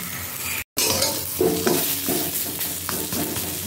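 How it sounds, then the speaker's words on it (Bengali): Black cumin and asafoetida sizzling in hot oil in a pan, a loud close crackle with stirring scrapes and faint utensil clinks, interrupted by a short dropout early on, no voices. "তেলেতে একটু কালো জিরা ফোড়ন দিয়ে দিই"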